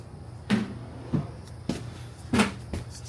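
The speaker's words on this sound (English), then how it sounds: "Pots and pans drawer underneath." An RV kitchen pots-and-pans drawer beneath the oven, fitted with Furrion appliances, opens and shuts in a few sharp wooden knocks and thuds at close range, spaced over a few seconds with no talking.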